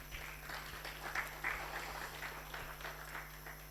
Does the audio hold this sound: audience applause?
yes